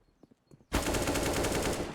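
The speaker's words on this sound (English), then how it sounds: "Jojo able to get the AK headshot" Sustained full-auto AK rifle fire bursts in loud and close after a few faint clicks, a dense rapid rattle of shots from a competitive Counter-Strike match on the Inferno map.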